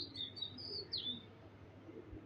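A male pigeon kept for racing-style flying gives a few thin, high calls early on, against a steady low background hum and no talk.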